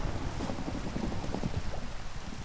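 Steady rain in the video game Minecraft, a dense even hiss with soft patters and a low rumble underneath, continuous and fairly loud with no talking.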